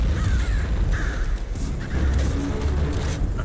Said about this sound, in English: Fucking crows. Hate them.